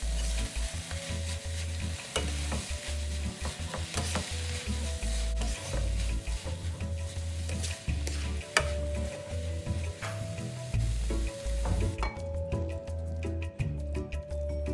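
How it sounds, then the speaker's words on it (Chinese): Cabbage filling with shredded chili and sesame oil being stir-fried in a wok, a steady sizzle broken by repeated scraping and tossing strokes of the spatula, close and clear with no talking. "翻炒拌匀，香喷喷的高丽菜内馅就完成了。"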